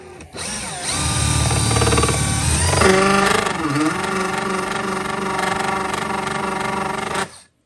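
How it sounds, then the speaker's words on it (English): A drill with a metal-cutting bit bores a hole through the metal of a Bass Tracker boat, a loud, steady whine that shifts in pitch midway, running continuously for several seconds before cutting off abruptly. "you're going to want to use a bit that cuts metal"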